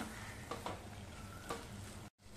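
Chopped tomato and coriander being stirred and mixed in a sizzling pan, a steady soft frying hiss with a few faint scrapes of the spoon, close and without talk.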